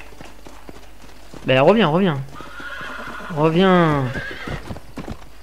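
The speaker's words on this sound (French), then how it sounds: "le cheval commence un peu à se calmer" Horse neighing twice with loud whinnies over clip-clopping hooves in the video game Red Dead Redemption, close and prominent, with someone speaking briefly.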